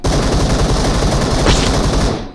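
Rapid automatic gunfire from the video game PUBG rattles on continuously and loudly for a couple of seconds, a dense stream of shots that fades out at the end.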